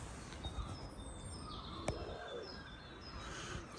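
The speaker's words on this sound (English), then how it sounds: "You can hear a great tit." Great tit singing in a woodland, with faint, high repeated calls among other distant birdsong over a soft outdoor background; one brief sharp noise briefly stands out.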